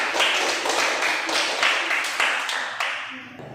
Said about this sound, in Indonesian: Tepuk tangan semua anak-anak